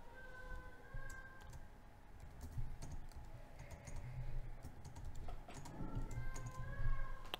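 Someone types an email address and password on a computer keyboard while creating an account online, a steady run of soft key clicks with short pauses over a low room hum.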